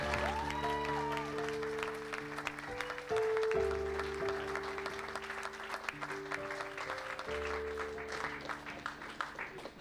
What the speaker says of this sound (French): Vous pouvez y aller tranquillement sous vos applaudissements, n'est-ce pas?